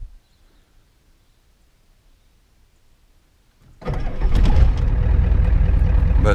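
A diesel project truck cranks and fires up after a quiet pause, settling straight into a loud, steady running rumble close by.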